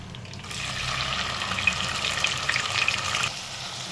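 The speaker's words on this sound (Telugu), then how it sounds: "ఇగో ఈ పేస్ట్ని ఇట్లా మంచిగా రెడ్ కలర్ వచ్చేంత వరకు మంచిగా ఫ్రై చేసుకోవాలన్నమాట" Onion and poppy seed paste fries steadily in a pan for a prawn curry, a close, continuous sizzle with crackling bursts that rise after the first half second and ease off near the end.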